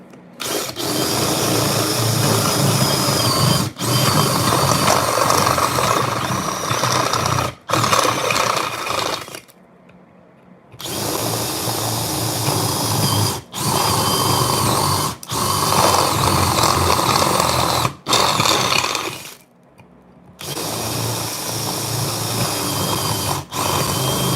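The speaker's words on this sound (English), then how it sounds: "That is a completely drilled enclosure." An electric drill bores holes in a metal fuzz pedal enclosure, whining loudly in long sustained runs broken by short pauses and abrupt stops, with a clicking, grinding edge and no talk.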